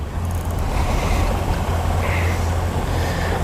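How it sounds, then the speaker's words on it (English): Steady wind blowing over open water on a hot August day of fishing, buffeting the microphone in a constant loud rush with a faint wash of water beneath and no talking. "I got a really nice wind blowing here."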